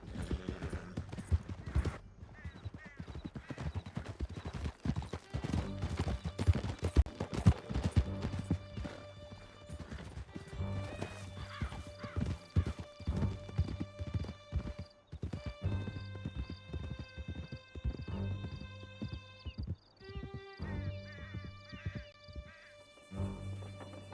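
Horses gallop in Red Dead Redemption II, a steady stream of rapid, close hoofbeats with occasional neighs and whinnies under a running musical score, continuing throughout without any talk.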